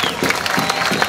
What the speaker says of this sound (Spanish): Un aplauso para este pueblo hermoso.